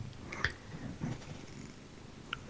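A cat purring close by, a steady low rumble with a few faint chirps, heard alone in a quiet room.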